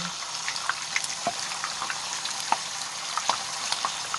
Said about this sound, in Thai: พอน้ำมันเริ่มร้อนเอาเต้าหู้ลงทอดได้เลย